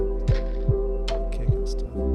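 Kick drum in a lofi piano beat, thumping four times at a relaxed, evenly spaced pulse under a sustained piano chord and low hum, with soft hi-hat or noise accents on top.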